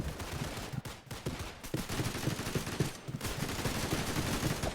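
Long-range gun firing in a shooter video game, a dense run of rapid shots that continues almost without a break, loud and close, with no talking over it.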